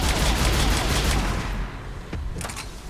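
Dense burst of rapid gunfire in the shooter game Mass Effect 3, loud and continuous at first, then thinning out into scattered shots.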